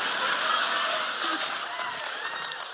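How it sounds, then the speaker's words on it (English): A live podcast audience claps continuously and fairly loudly, dense and even throughout, with faint chuckles and murmurs in the crowd. "We need to stop clapping because It's only encouraging me."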